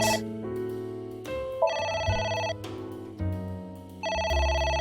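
Electronic telephone ringing in the video game AI: The Somnium Files, with a loud, repeating tonal ring pattern that steps between pitches and plays on without pause throughout, with no voices over it.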